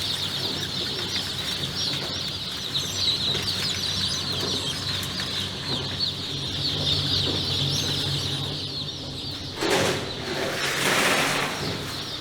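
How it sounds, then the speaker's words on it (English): Newly hatched chicks on a hatchery machine give a continuous dense chorus of high chirping and peeping, steady and fairly close throughout, over a low mechanical hum, with a brief rustling burst near the end. "He moves the hatched chicks on the machine while separating them from the eggshells."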